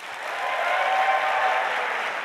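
Audience applause at an Ignite Phoenix event, a steady broadband wash of clapping that swells slightly and holds throughout, fairly loud and without speech.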